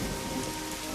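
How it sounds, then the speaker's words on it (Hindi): Heavy rain pours down in cold weather as a dense, steady hiss of drops with no pauses, fairly quiet and heard alone for a brief moment. "वे लोग मदद की तलाश में भारी बारिश और ठंड में इधर उधर भटक रहे थे।"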